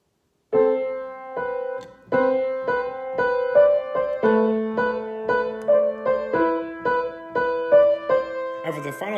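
A piano plays a gentle melody note by note over sustained lower tones, clear and close, with a soft click at the end.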